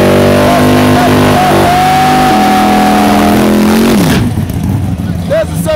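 A 7-Up Mustang drag race car revs loudly in a steady, droning roar; its pitch holds, then slides down around the four-second mark before the engine settles into rougher noise. Voices talk over it.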